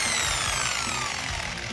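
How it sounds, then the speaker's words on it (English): A Forstner drill bit bores into wood with a loud, steady power-drill whir and grinding hum. The pitch sags slightly as the bit bites deeper, and the sound runs continuously without pause. "We're using a different kind of drill bit called a Forster bit."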